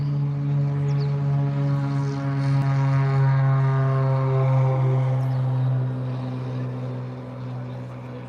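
A Cessna light propeller aircraft at Elstree Aerodrome gives a steady, droning engine hum that swells slightly and then fades as it moves off, at moderate distance and with no voices over it.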